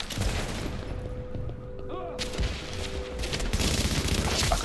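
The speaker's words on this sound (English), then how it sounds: "What's with the explosion when I'm shooting some of these guys?" Explosions and gunfire crackle in a video game as enemies are shot, a dense, continuous barrage of booms and shots with a faint voice underneath.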